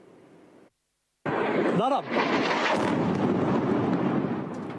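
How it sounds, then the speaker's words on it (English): A huge blast from an Israeli airstrike on the Dahieh neighborhood of Beirut's southern suburbs: a sudden loud roar that bursts in after a brief silence and rumbles on for several seconds. "A huge explosion as an Israeli strike hit the Dahieh neighborhood of Beirut's southern suburbs"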